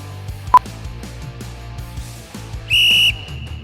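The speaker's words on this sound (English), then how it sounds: "listen out for the whistle." A single loud, steady sports whistle blast lasting about half a second, sounding over rhythmic background music during a tabata workout.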